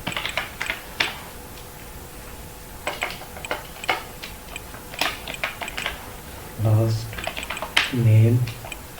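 Keystrokes on a computer keyboard tapped in short irregular bursts while entering a last name in JavaScript code, close and moderately loud, with a voice speaking briefly near the end.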